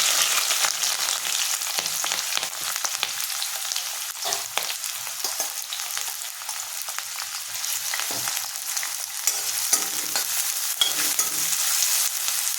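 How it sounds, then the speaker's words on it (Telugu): Chopped onions frying in oil in a hot kadai, a loud, even sizzle with crackling and occasional stirring scrapes, continuous and close with no talking. "ఇది బాగా వేపించుకోవాలి. ఉల్లిపాయలు మగ్గినీళ్ళు చూద్దాం."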